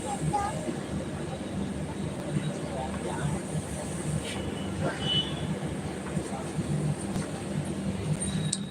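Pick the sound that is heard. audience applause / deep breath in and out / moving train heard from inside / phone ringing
moving train heard from inside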